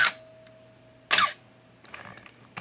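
A Canon AE-1 35mm film SLR fires its shutter at the one-second setting: a sharp click opens it, a second louder mechanical clack closes it a second later, then faint handling ticks follow in a quiet room.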